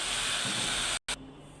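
Sponge gourd (dhundul) frying in a pan on a stove, a steady loud sizzle and hiss that cuts out briefly and then resumes more quietly.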